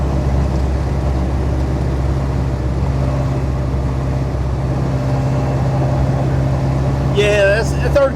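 A diesel-engined Jeep Wrangler YJ cruising a country road in third gear gives off a steady, close, low engine hum with a constant rumble and a brief higher rattle near the end.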